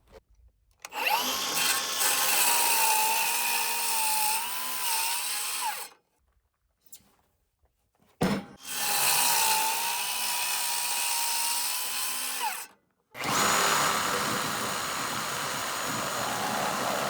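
Power saw cutting through a wooden post at 7 feet 7 inches for a lean-to shed, two long loud whining cuts separated by short pauses, a third run starting near the end.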